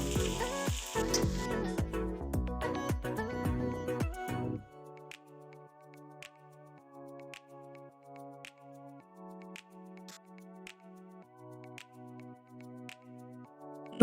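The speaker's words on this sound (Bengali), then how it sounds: "ভালো করে ভেজে নিতে হবে।" Potatoes and onions fry in a pan with dense sizzling and scraping clatter for the first few seconds, then the frying gives way to steady background music.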